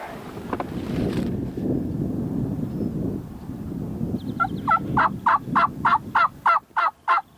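A wild turkey gobbler gobbles repeatedly in loud, rhythmic bursts over faint outdoor wind noise in an open field, following a stretch of low rumbling background.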